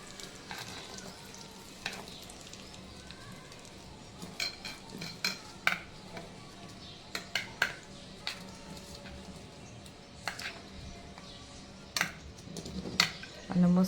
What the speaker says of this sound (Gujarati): રેડી આને મિક્સ કરવું છે